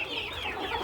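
A chicken on an organic country chicken farm clucks close by in a short run of overlapping, wavering calls, with faint farmyard background and no speech.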